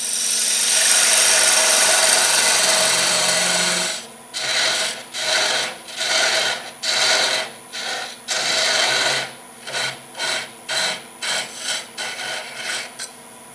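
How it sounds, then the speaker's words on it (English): A parting tool cuts into wood spinning on a lathe during a woodturning project: a steady rasping scrape for about four seconds, then a run of short, evenly spaced cutting bursts that grow quicker toward the end, close and loud. "I'm going to make a quick cut with the parting tool."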